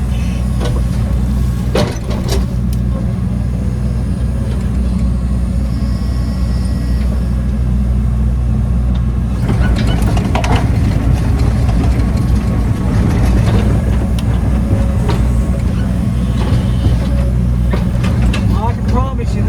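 A tracked excavator engine runs steadily at close range while clearing trees around a pond, a constant loud low rumble with a person talking over it.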